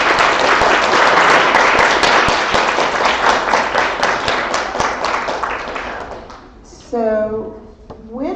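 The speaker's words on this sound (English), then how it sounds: "let's give them all a round of applause." Audience applause at a school spelling bee after round 12, sustained dense clapping for about six seconds that fades out, followed by a brief voiced sound near the end.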